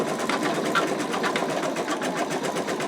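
An embroidery machine stitches out an in-the-hoop wallet, running a rapid, steady mechanical chatter of needle strokes at close range, uniform and continuous with no talking.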